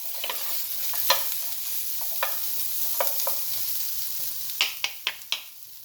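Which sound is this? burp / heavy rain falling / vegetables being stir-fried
vegetables being stir-fried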